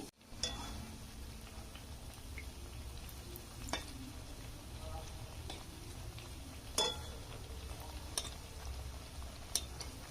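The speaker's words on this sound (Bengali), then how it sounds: "এইভাবে রুটিগুলো আমি সব ভেজে নেব ভালো করে গরম করে নিতে হবে" Roti flatbreads fry in hot oil, giving a faint, low sizzle under a constant background hum, with a few sharp ticks and clinks scattered through.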